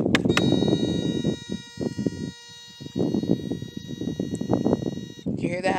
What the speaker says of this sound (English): You hear that beep, that long beep?